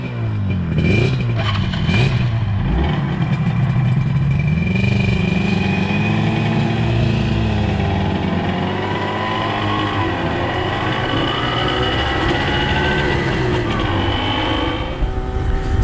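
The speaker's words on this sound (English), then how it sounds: "So my bike that I'm riding, this is my Yamaha, it looks like an RD250 YPVS" A Yamaha RD250 YPVS two-stroke motorcycle is ridden, its engine note rising and falling through gear changes, loud and continuous with steady wind roar throughout.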